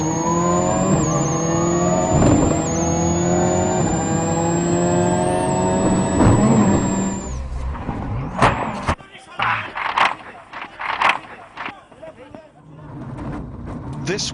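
Ford Focus WRC rally car at the 2002 Germany WRC stage, engine droning loud and steady with harmonic whine for several seconds, then cutting off into scattered bangs, crunches and rattles of a crash.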